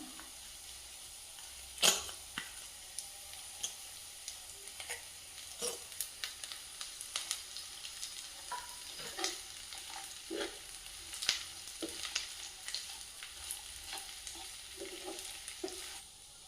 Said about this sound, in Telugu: ఇప్పుడు ఆలుగడ్డలు వేసుకుందాం